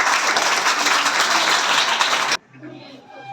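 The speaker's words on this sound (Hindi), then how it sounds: "इनके लिए थोड़ा मीठी मीठी ताली।" A classroom of students clapping for a classmate who solved a problem correctly, a dense burst of applause that stops abruptly partway through, followed by quieter room noise and faint voices.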